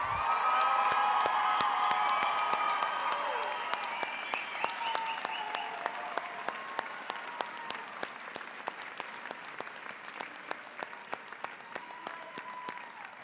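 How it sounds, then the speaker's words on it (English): A crowd at a graduation commencement ceremony claps and cheers for the graduates, loud with whoops at first, then thinning into scattered, fading individual claps. "How about another big round of applause for all of our graduates?"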